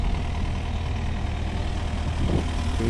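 A new wood processor's heavy engine idles and revs with a steady low rumble, loud and close, with a brief surge near the end.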